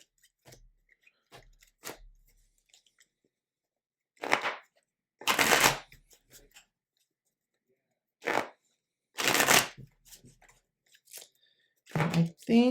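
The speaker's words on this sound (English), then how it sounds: "Let's turn some of these cards." Tarot cards are handled and turned in a series of short, soft papery swishes and flicks, separated by silent pauses, close to the microphone.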